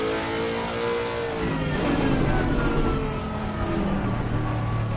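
Race car engine in the Assetto Corsa Competizione racing game, a steady loud drone with rising and falling revs through a bend, continuous for several seconds with no talk over it.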